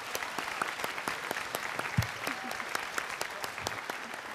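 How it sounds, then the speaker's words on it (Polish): An audience at a talk on engagement gives applause for the DJ and host, with a steady patter of many hands at moderate distance and a few distinct sharp claps standing out. "Wielkie brawa za Wojtka, naprawdę."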